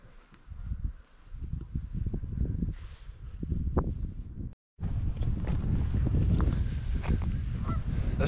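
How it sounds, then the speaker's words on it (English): Geese honk repeatedly at Lintrathen Loch in Scotland, a loud overlapping chorus of calls from a flock nearby, with gusts of wind buffeting the microphone and a brief dropout partway through. "All those geese have actually gone into the water over there now."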